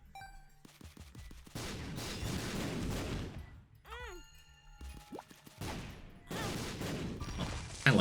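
Bomb blasts and explosive bursts in The Binding of Isaac, a run of loud, broad crashes in several bursts with brief chiming game effects between them, and no talk.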